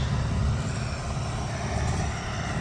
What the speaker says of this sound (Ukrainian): трактор не димить, тягне